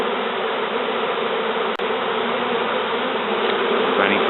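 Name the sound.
bees fanning at a nest inside a sofa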